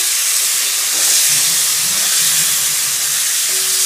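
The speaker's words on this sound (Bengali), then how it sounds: "একটু ভেজে নিলে মাংসটা সফট হয় খুব।" About 400 grams of meat fries in a pan, giving a loud, steady sizzle and hiss close up with no talking.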